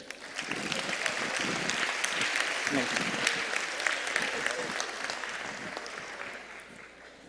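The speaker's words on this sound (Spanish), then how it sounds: "Un aplauso para Derek." Sustained audience applause fills a church gathering, a dense steady patter of many hands clapping at moderate distance, with scattered voices mixed in and the clapping tapering slightly toward the end.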